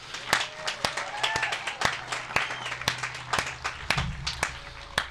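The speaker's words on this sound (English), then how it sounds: "Can we give them a round of applause?" Audience applause for the host committee at an AA roundup gathering, with scattered distinct claps over a light crowd murmur.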